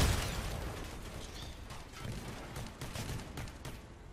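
Shotgun blasts in the vehicle combat game Crossout, a scatter of short booming pops and bursts over constant engine-like rumble, moderately loud and irregularly spaced, with no speech.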